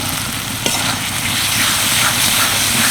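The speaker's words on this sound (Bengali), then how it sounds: "ভেজে রাখা আলুটা দিয়ে আমি এক মিনিট মতো নেড়ে চেড়ে নিচ্ছি" Fried potatoes stirred into a yogurt-based spice masala for a soybean kofta curry. A steady close sizzle of frying, with scraping stirs and a brief clink near the start.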